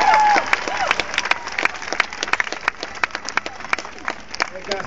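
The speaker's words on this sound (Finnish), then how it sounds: "Te voitte kaikki vähän antaa itsellenne aplodeja." Audience applause at a celebration in Helsinki with Teemu Selänne and the Anaheim Stanley Cup, a dense crowd of clapping hands with scattered sharp claps running steadily for several seconds, with some voices mixed in.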